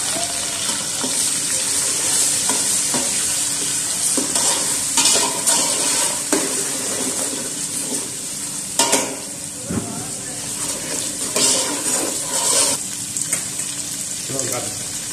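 Onions, ginger and garlic sizzle steadily in a hot pan for a Pakistani chickpea and chicken curry, with close frying crackle, occasional stirring scrapes and clatter throughout.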